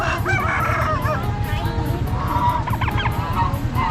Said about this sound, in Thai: ไก่ง่วงก็มีพี่น้องโอ้โหไก่ง่วงก็มีเลย